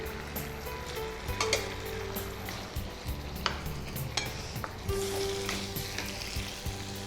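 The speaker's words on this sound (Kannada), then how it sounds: "ಸೊ ಅದು ಆ ಕಡೆ ಫ್ರೈ ಆಗ್ತಾ ಇರಲಿ." Steamed fish momos with chilli paste fry in a pan. A loud, steady sizzle runs throughout with occasional stirring scrapes and no voices.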